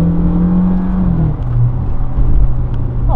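A Volkswagen Tiguan turbo accelerating hard, its engine rising in pitch and then dropping sharply at a quick gear shift before pulling again, loud and close from the cabin.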